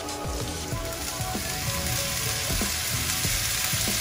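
Frozen peas with a bit of ice on them hit a hot pan already holding carrot, for a paneer Maggi. The oil crackles and sizzles loudly and steadily, close up, with scattered popping spatters and no voices.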